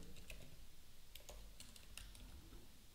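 Quiet, close typing of code on a computer keyboard, a quick irregular run of light key clicks and taps over faint steady background hiss, with no talk.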